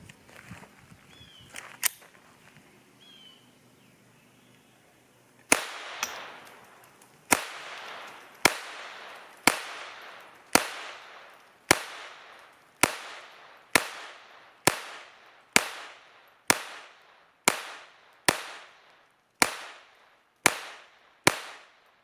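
Taurus TX22 .22 pistol firing Aquila Super Extra rounds outdoors, a steady string of about fifteen sharp, loud reports at a quick even pace after a few handling clicks, with no talking.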